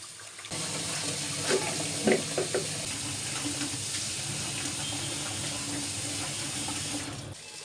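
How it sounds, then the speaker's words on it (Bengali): Tap water runs steadily into a kitchen sink while pumpkin greens are washed, a continuous close splashing rush with a few brief louder spatters, no talking. "শাক ধোয়ার সময় অনেক ভালো করে যত্ন করে শাক ধুয়ে নিতে হয়"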